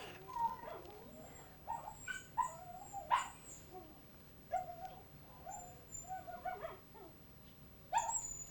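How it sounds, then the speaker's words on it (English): A dog howls in a series of short, wavering cries repeated through the stretch, fairly close but not loud, over a faint room background. "It's my dog. Singing to me."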